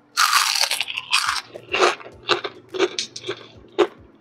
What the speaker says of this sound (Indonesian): Masya Allah super duper crispy banget, renyah banget ya